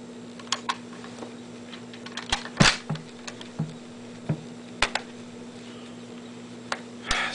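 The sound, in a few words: working the bolt of a Mauser Kar98 rifle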